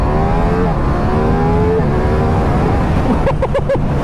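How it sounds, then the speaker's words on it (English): A Ducati Diavel V4 motorcycle engine rumbles loudly and steadily with rising and falling harmonic tones as it revs, followed near the end by a few sharp percussive bursts. "Let's rev it up a couple times."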